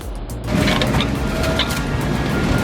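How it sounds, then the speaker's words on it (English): A DW3060 Type C wood shredder grinds a dense tree root, a loud rough mechanical churning with crackling bursts that kicks in after a brief quieter moment and keeps going steadily. "Anyone know the horsepower on this DW3060 Type C? Must take some major power to grind up a root that dense."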